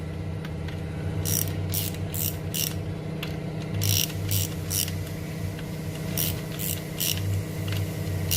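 A ratchet clicks in short bursts while tightening connecting rod bolts on a high-power LS engine build, rapid pawl ticks in three groups over a steady low background hum, close up.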